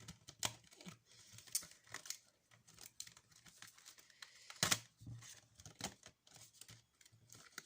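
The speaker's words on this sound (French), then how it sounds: "Donc déjà je vais découper les parties de l'écureuil" Pieces of a squirrel are cut and punched out of a board from an Aldi craft kit, producing irregular crinkling, tearing and snapping sounds, close and fairly quiet, with a few sharper pops.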